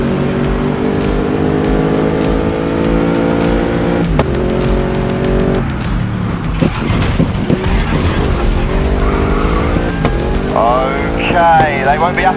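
Race cars in the video game Grid Legends roar past one another during overtakes, with loud, continuous engine drone, shifting pitch and tire squeal, plus a speaking voice over the top.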